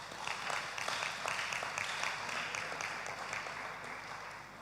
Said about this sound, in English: I want the ladies here to give themselves a round of applause.